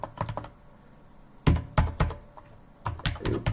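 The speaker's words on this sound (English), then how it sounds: "Let me type it out." Computer keyboard keys are typed in short, close clattering bursts separated by pauses, with no talking over them.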